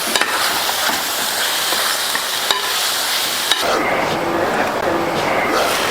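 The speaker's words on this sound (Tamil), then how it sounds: "ஜிஞ்சர் கார்லிக் பேஸ்ட்டோட இந்த பச்சை வாசனை போகிற அளவு நல்லா சாட்டே பண்ணணும்." Ginger garlic paste frying with onion and chopped tomato in a pan makes a loud, continuous sizzle with stirring scrapes and clinks, and the hiss changes tone partway through as more ingredients go in.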